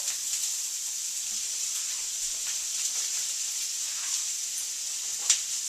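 Sliced onions and vegetables for a vegetarian chili sizzle in a pan, a constant bright hiss with scattered small pops and one sharper crackle near the end, no voices.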